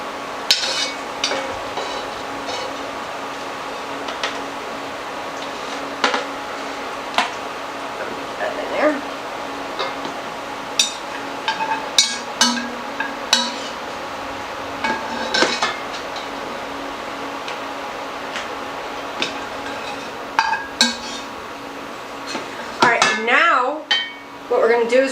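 A slotted spoon scrapes and clinks against a pan while lifting cooked bacon out of its grease, scattered metallic taps over a steady hum, with a person talking throughout.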